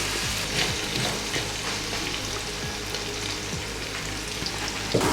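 Onions frying with coriander in a basic aluminium karai, not non-stick, for a lamb kofta and potato curry: a steady sizzle with soft, irregular scraping strokes of stirring, close and continuous.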